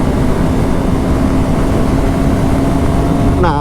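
A Honda Hornet 2.0 motorcycle engine runs at speed in fifth gear, a loud, steady drone mixed with heavy wind rush, with a brief rising whine at the very end.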